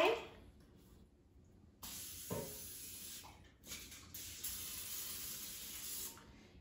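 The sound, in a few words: non-stick cooking spray on air fryer basket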